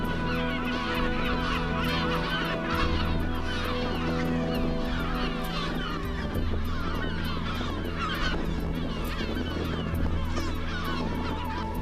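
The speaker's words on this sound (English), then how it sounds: "the gulls were particularly aggressive at this part of the island" Gulls on Inchcolm Island call aggressively in a dense, continuous chorus of loud, harsh honking cries, close and unbroken throughout with no talk.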